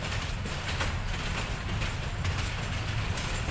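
A train at Parbatipur railway junction gives off a continuous low rumble and mechanical clatter at moderate distance, steady for the whole stretch without a break.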